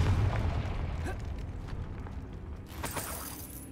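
A Confringo fire spell goes off in Hogwarts Legacy, a rumbling boom that fades, then a brighter crackling burst near the end.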